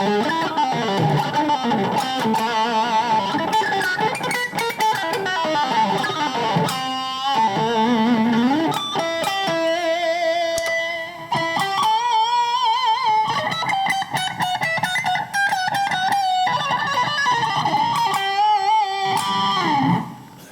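Distorted electric guitar played through a Zoom G2 Nu multi-effects pedal with the flanger switched off, a continuous loud riff of sustained chords and single notes with no talking.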